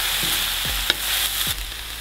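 Stewed cabbage sizzling in a pan as it is stirred, a constant frying hiss with a few scraping strokes of the utensil close up.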